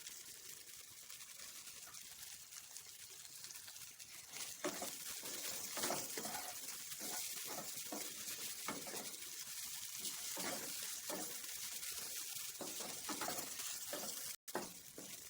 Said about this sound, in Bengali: এবারে আমি চিকেনের মধ্যে দিয়ে দেব কেটে রাখা পেঁয়াজগুলো